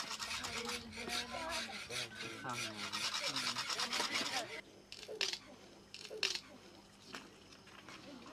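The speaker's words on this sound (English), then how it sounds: "This carpenter's brush is made out of the jaw of a wild boar that has to be sharpened every once in a while." A carpenter's rasp made from a wild boar jaw scrapes wood in quick, repeated rubbing strokes, heard close under a calm voice for the first half, then as a few sparse scrapes alone.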